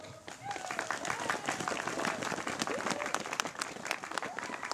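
An audience at a children's theatre performance of The Snow Queen claps in a steady, moderately loud wash of applause, heard from within the crowd, with voices talking faintly underneath.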